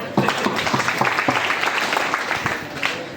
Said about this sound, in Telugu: ఈ తల్లులకి చప్పట్లు కొట్టండి